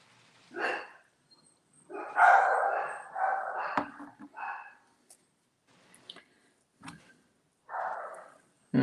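Pet dogs bark in a home with pool workers and air conditioning nearby, giving loud, close bursts in irregular clusters with short pauses between, the barking carrying on for several seconds.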